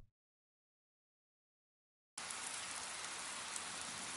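Rain in the video game Paper Lily starts abruptly after a near-silent stretch, then pours steadily as a loud, even hiss of dense falling drops with no talk over it.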